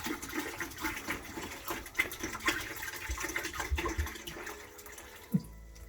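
A half gallon of apple juice pours in a continuous splashing stream, faint and close, with a brief clunk near the end.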